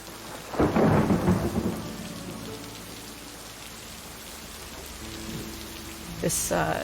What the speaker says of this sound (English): I'm getting like thunder from both sides.